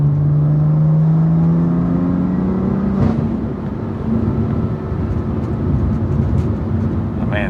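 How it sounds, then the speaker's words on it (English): A BMW M2 CS fitted with a Carbahn Stage 2 piggyback tune accelerates hard. The loud engine note climbs steadily, breaks briefly at a gear change, then rises again with strong, rough road and wind roar. "But man, this car pulls."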